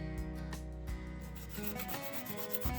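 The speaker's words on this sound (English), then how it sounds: "just give it some sanding." Sanding a wonky, poorly printed 3D-printed model car part, with close rubbing strokes and soft scraping over a steady low background hum, no talking.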